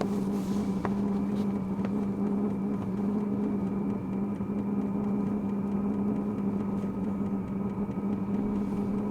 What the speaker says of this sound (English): It sounds like a jet engine starting up this thing.